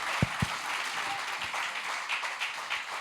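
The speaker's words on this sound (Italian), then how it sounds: "facciamolo più forte questo applauso" Church congregation at a Maltese service with an Italian pastor applauding steadily, a dense, even wash of many hands clapping, with a couple of low thumps at the start.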